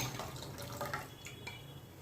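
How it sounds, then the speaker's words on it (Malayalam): Mixed ragi batter poured into a cooking pot, a soft continuous liquid pour with light splashing and a faint clink of the vessel, quiet and close. "നമ്മൾ മിക്സ് ചെയ്ത് വെച്ച റാഗി ഇല്ലേ റാഗി നമുക്ക് ഇതിലേക്ക് ഒഴിച്ചു കൊടുക്കാം"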